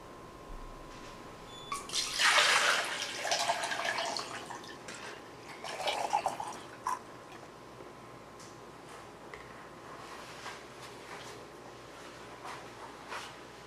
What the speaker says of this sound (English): Fill the empty milk jug with water and then pour it into the quart bottle